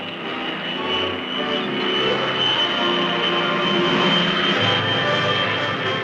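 A US Army reconnaissance aircraft engine drones steadily throughout with a loud, sustained propeller-and-engine hum, swelling slightly in the middle.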